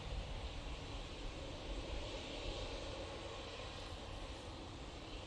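KLM Embraer E190 jet taking off at Manchester Airport, bound for Amsterdam Schiphol: a steady, distant roar of jet engines that holds evenly without voices.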